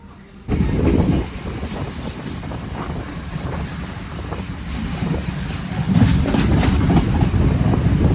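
A train in Sri Lanka rumbles along the tracks at speed with steady clickety-clack and a wind-like roar, growing slightly louder partway through.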